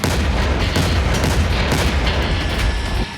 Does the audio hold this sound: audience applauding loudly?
no